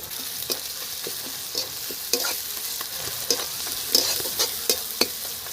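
Onion fries with a nigella seed tempering in oil, the base for a chanda fish curry, producing a steady sizzle punctuated by sharp spatula taps and stirring clicks, close and clear without talk.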